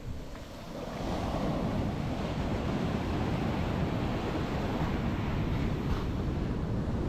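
Ocean waves break and wash continuously on Querim Beach in Goa, a broad steady roar of surf with wind noise on the microphone and no voices.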